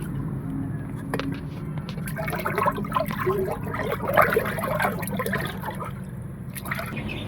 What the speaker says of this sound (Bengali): আগে থেকে উঠিয়ে রাখা চল্লিশ লিটার পানির গামলার মধ্যে ওষুধগুলো ঢেলে ভালোভাবে নাড়িয়ে চাড়িয়ে মিক্স করে দেব